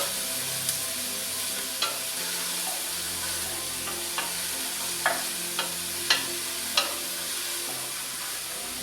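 Pork soup ingredients stirred in a pot over a steady sizzling, frying hiss, with about ten sharp spoon taps and scrapes against the pot at irregular intervals, close up and without voices.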